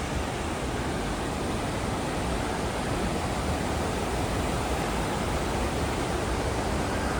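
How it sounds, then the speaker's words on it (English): A waterfall on a steep forest hiking trail roars in a constant, broadband rush of falling water, loud and close with no pauses or voices. "All right, let's walk down and get under the waterfall."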